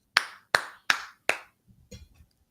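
Four sharp, evenly spaced hand claps ring out on a talk show for guest Mike Finnegan, close and crisp in a quiet room, followed by a brief murmur of voices.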